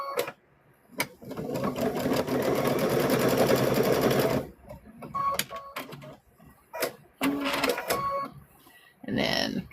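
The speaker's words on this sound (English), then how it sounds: "Now let's get these arms sewed in there." Sewing machine stitching the arms onto a handmade stuffed bear, a steady buzzing run of about four seconds followed by shorter start-stop bursts, with a person talking in between.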